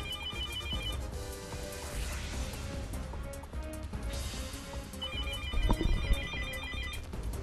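House telephone ringing, two bursts of electronic ringtone about four seconds apart over busy background music and sound effects.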